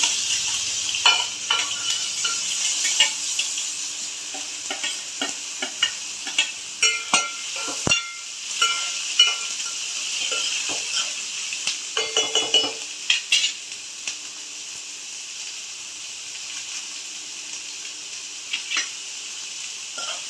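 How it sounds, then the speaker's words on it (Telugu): Onions and curry leaves fry in oil for a Guntur-style egg curry, a soft continuous sizzle under repeated scraping and clinking of a spoon stirring the pan, close and moderately quiet. "ఈ ఆయిల్లో ఫ్రై అవుతాయి కదా"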